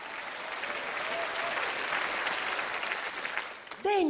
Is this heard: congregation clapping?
yes